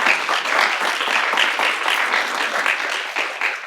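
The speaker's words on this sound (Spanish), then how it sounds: "Un aplauso para la maestra." An audience at a school mathematics teaching session gives a teacher a round of applause, a dense, continuous wash of clapping hands that stays steady and fairly close throughout.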